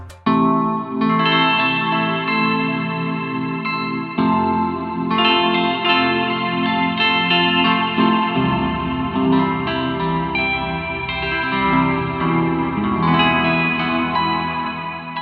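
Bright, shimmering lap steel-style synth chords strummed in steady waves on a minichord driving Omnisphere, with a gliding, twangy tone and heavy chorus and echo, playing alone and fairly loud.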